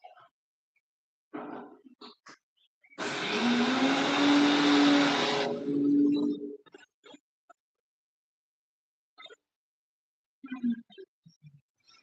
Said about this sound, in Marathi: आता मिक्सरला बारीक करून घ्यायचंय